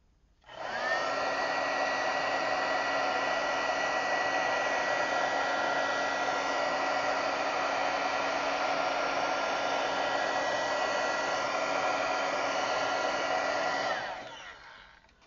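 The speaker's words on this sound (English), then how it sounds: "I'm going to use a heat tool to kind of move it around." A heat tool blows steadily on alcohol ink drops, a loud, even whirring hiss with a faint whine that holds for about thirteen seconds, then cuts off near the end.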